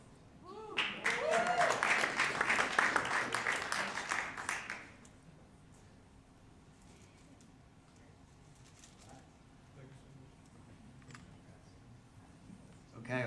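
Audience applause at the Cangialosi Business Innovation Competition 2022 awards, a loud burst of clapping from a crowd in a hall that lasts about four seconds, then cuts to quiet room tone with faint scattered sounds.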